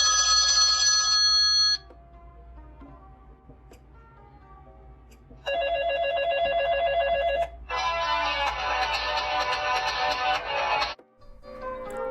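A loud ringtone plays from the speaker of a Blu Vivo XL5 budget smartphone: a bright melodic chime, a pause, then two more bursts of rapid repeating electronic tones, close and clear with no talk.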